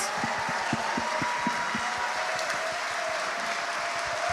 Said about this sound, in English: please stand up so we can give them a round of applause